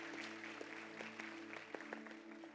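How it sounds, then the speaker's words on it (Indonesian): A church congregation gives a brief burst of applause, with scattered claps rising over a low steady hum, moderately distant and fairly quiet with no speech. "Mari kita beri tepuk tangan buat Tuhan"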